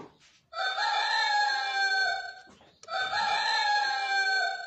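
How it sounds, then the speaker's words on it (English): A rooster's crow from an animal-sound piano toy rings out twice, loud and close, each crow a long strained call with a short gap between them. "cock."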